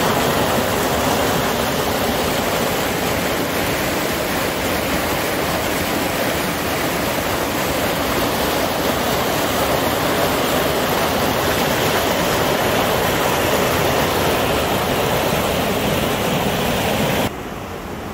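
Steady rush of the Cabras river flowing beneath an old stone bridge in Agraña, Covelo, Pontevedra, Galicia, a loud, continuous broadband roar of moving water that holds unbroken before dropping slightly at the very end.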